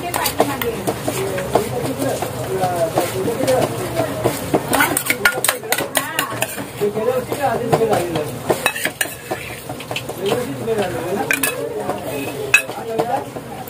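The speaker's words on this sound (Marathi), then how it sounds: "पेस्ट एकदम आपण असं लावून घेऊ याला" Ginger, garlic and Kashmiri red chilli paste is rubbed by hand onto bangda (mackerel) fish in a dish, giving close, wet smearing with frequent clinks and taps against the dish while a person talks over it.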